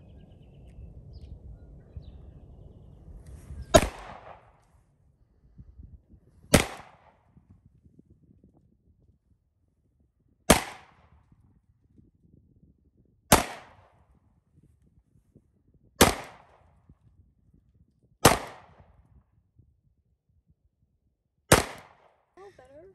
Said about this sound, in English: All right, Glock 19, 9mm.